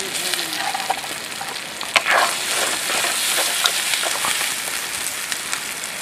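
Chopped onion with green chilli and tomato frying in a pan at an outdoor village jungle cookout, a steady dense sizzle with scattered crackles and pops, close and fairly loud, no talk.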